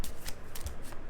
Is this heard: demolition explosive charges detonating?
no